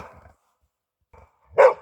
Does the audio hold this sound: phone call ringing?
no